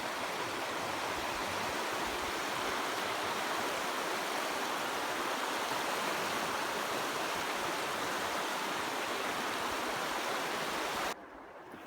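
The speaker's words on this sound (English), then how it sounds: "We're here at the river crossing camp. There's the crossing right there" A winter woodland river rushes steadily past a river crossing, giving a dense, close, continuous wash of flowing water that drops away sharply at the very end.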